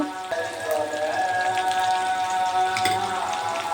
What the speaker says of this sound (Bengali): এবার একটু আদা রসুন বাটা দিয়ে দেবো।